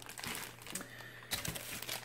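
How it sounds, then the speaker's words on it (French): Cardboard and plastic packaging of a One Piece Luffy figurine being unwrapped, with steady close crinkling and crumpling, a few sharper tearing crackles, and no talking. "on va la déballer."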